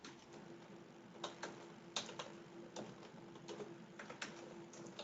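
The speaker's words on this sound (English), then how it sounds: "I'm typing, sorry." Computer keyboard typing at a desk, quiet irregular key clicks and taps over a steady faint hum, with no speech.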